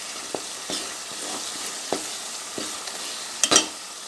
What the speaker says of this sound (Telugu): పచ్చి వాసన పోయే వరకు వేయింపాలి